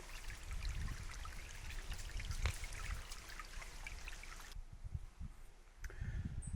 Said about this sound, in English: we can hear that tinkling of the water